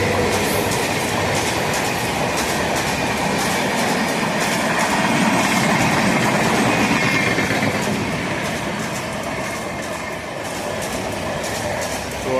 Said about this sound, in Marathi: अशी थ्रू ट्रेन चाललेली आहे